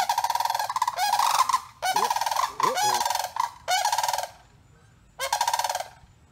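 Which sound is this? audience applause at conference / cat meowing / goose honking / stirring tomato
goose honking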